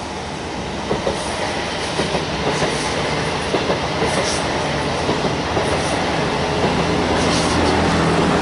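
A Whoosh high-speed train on the Jakarta–Bandung line rolling slowly toward the depot, a loud steady rumble from inside with rhythmic wheel clicks over rail joints and faint squeals.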